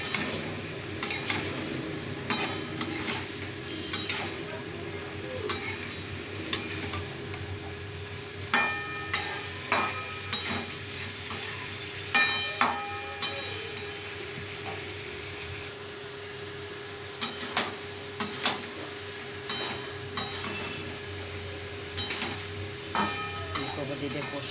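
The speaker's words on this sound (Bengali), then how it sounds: "ফুলকপিটা দিয়ে ভালো করে এটাকে কষে নেব।" Fried cauliflower is stir-fried with soybean curry in a pan, a low sizzle under repeated sharp scrapes and clinks of a spatula against the pan, coming in irregular bursts, with no talking.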